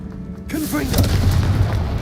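A Confringo fire spell is cast in the Hogwarts Legacy video game, giving a booming blast that swells after a short quiet start and then rumbles on, with a brief voice and tonal effects layered over the burst.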